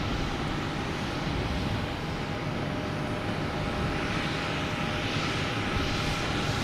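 An Alaska Airlines airliner departs Boston Logan, its jet engines producing a loud, dense, unbroken roar with a faint high whine running through it, steady from start to end.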